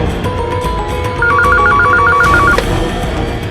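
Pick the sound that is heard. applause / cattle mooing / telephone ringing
telephone ringing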